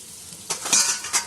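Spices sizzling and being stirred in a pan for a country chicken curry, a soft frying hiss broken by a few scraping stirs and light metal clinks, close and fairly quiet.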